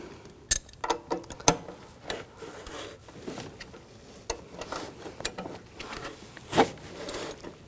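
Wrench clicks and metallic ratcheting as the upstream oxygen sensor is loosened on a 2001-2009 Volvo S60 2.5L five-cylinder, a series of sharp close ticks and scrapes at an uneven rhythm, no talking.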